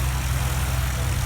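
A light airplane's engine drones steadily and loudly during a flyby at an airfield fly-in, a continuous low hum with no voices over it.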